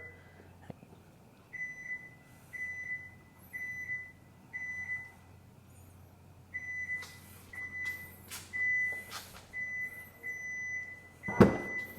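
Hands-free tailgate of a Kia EV9 GT-Line giving a run of evenly spaced warning beeps, about six pulses, before the motor whirs and the tailgate begins to open with a thud near the end.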